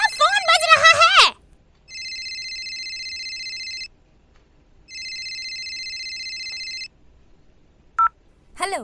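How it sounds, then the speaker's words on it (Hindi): A phone rings in two evenly spaced electronic bursts of a steady, shrill tone, with a person talking just before the first ring and a short blip afterward. "तुम्हारा फोन बज रहा है।"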